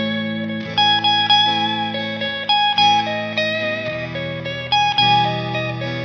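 Electric guitar with effects plays a melody using outside notes over sustained chords, with clear plucked notes ringing over a bass-heavy chord bed, each change marked by a fresh attack, reverb and chorus-like shimmer throughout, no voices.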